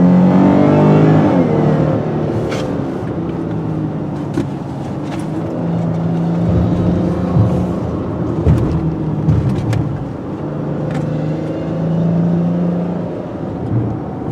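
An all-wheel-drive Chrysler 300 accelerates on the road, its engine droning and swelling through rising and falling tones from inside the cabin, with occasional clicks and bumps over a steady rumble.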